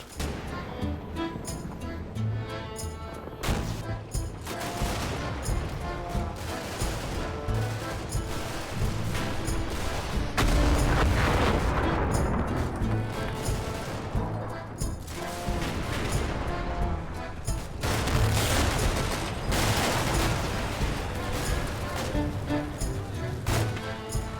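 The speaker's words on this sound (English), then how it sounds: "A brief but intense firefight followed." Video game firefight with dense, continuous gunfire: repeated sharp cracks and bursts, mixed with crashing impacts and a surging roar in the middle, loud and close throughout.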